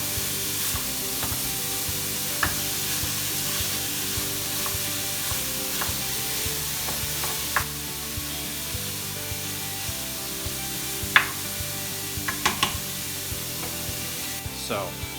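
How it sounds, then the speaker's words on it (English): Beef pieces of a couple of inches sizzle loudly in a hot pan for lasagna, a steady close frying hiss with occasional stirring scrapes and pops. "we can let it sizzle for 30 seconds to a minute before mixing it up again"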